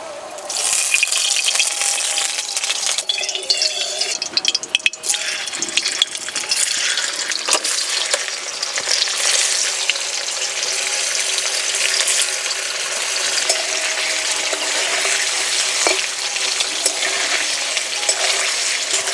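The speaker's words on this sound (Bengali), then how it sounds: "আমি এখানে পনির ঘি দিয়ে ভাজছি" Cubes of paneer frying in ghee in a kadai, a loud, dense close-up sizzle with bubbling and spattering that holds steady throughout, with no one speaking.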